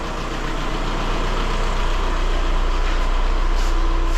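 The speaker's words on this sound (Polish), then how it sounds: "te silniki są głośne" A Seat car engine idles loudly and steadily with a deep, rough rumble, close by and unbroken, with no talk over it.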